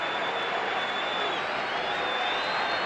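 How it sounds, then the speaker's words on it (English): Large baseball stadium crowd on a Friday night, a steady broad roar of many voices with scattered applause and cheering, continuous and fairly distant throughout. "Big crowd with Friday night spirit."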